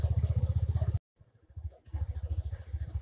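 A motorcycle rides along a dark village road at night, its engine thumping in a fast, steady pulse that drops out abruptly, then picks back up and builds again.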